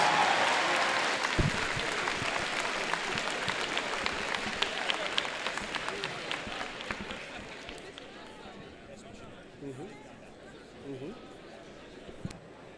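Applause from a crowd at a robotics competition alliance selection, dense clapping that fades over several seconds into scattered claps, murmuring and a few nearby voices.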